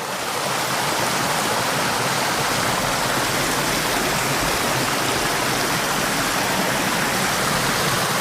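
A small mountain waterfall splashes steadily nearby, a loud continuous rushing roar with no break and no voices over it.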